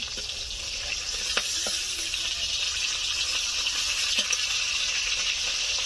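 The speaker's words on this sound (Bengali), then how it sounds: "এই মাছগুলো যে এত ফাটে" Fish frying in hot oil in a village-style kitchen, a steady hiss with scattered sharp pops and spatters across the whole stretch.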